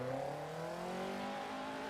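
A drift-spec car engine in the Assetto Corsa EVO racing game holds a steady, loud drone with rising harmonic tones, as if revving under load, continuous and close with no talk.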